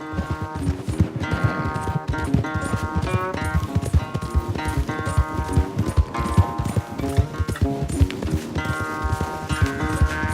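Horses gallop during a race in Red Dead Redemption 2, with loud, rapid hoofbeats pounding continuously under a dense bed of orchestral game music.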